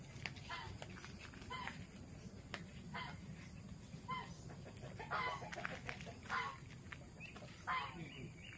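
Chickens cluck repeatedly in a backyard coop in rural Malaysia, with sharp close calls and what sounds like a rooster crowing, over a steady low hum and occasional voices.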